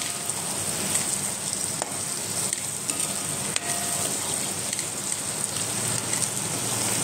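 Vegetables with turmeric sauté in a pan, producing a continuous, even sizzle with faint stirring ticks throughout, close and steady.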